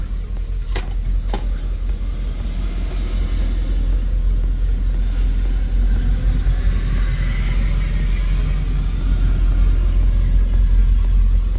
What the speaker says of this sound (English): see where that truck is coming out of the compound?